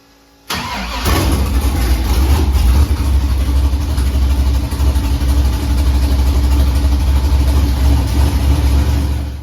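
A race car with a transbrake-equipped automatic transmission cranks and fires up abruptly, then settles into a loud, steady, rumbling idle close by with no voices over it.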